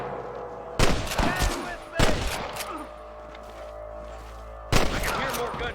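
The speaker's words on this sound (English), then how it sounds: "I can hear more gunshots." Gunfire in the Western video game Red Dead Redemption, with three loud bursts of shots and ricochets breaking over a low ambient background, the last volley trailing into scattered distant pops.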